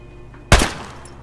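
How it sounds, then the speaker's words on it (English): A single sharp gunshot fired at a player in Escape from Tarkov, loud and close, with a brief ringing tail fading over the following half second. "I'm going to shoot you in the leg."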